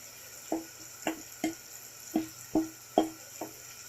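A spoon stirs ground chickpea paste into kurma masala in a pan, making seven evenly spaced soft scraping knocks over a quiet background hiss.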